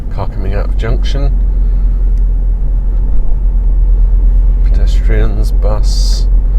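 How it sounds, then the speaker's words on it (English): Steady engine rumble of road traffic on Cheriton High Street in Kent, UK, with a car pulling out of a junction nearby, someone speaking briefly over the low drone. "Car coming out of junction."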